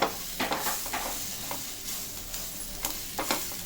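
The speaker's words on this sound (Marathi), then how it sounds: "सगळं असं छान भाजून घ्यायचं मस्त" Tomato, spices and poppy seeds roasting in a pan for chole masala, soft sizzling with intermittent scraping stirs of a spatula, close and fairly quiet.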